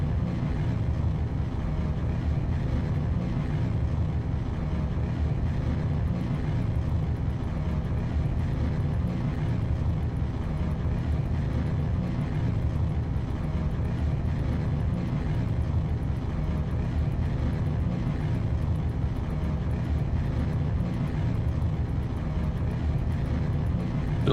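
Rocket engine in Kerbal Space Program throttling up during a lunar lander test launch, a steady loud low roar rumbling on continuously without a break.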